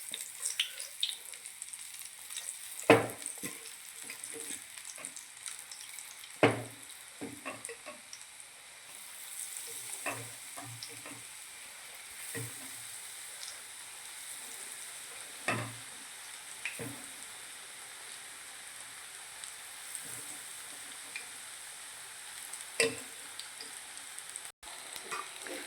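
Sweet potato fritters (bhajiya) frying in oil over a gas flame turned low, a steady soft sizzle with occasional louder crackles and spoon scrapes spaced several seconds apart, with no talking.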